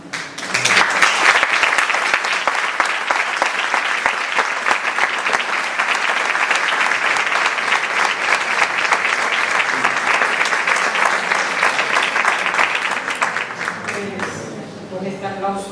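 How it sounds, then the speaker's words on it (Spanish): Steady, dense audience applause closes a round-table gathering honouring Concha Arques as an honorary member, loud and continuous for the whole stretch and easing slightly near the end, with no voices over it. "Con este aplauso"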